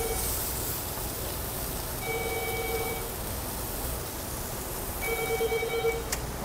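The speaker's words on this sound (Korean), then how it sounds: "예약전화 엄청나게 많이 와요" A telephone rings twice at a restaurant, with short electronic bursts standing out over a constant wash of busy background noise.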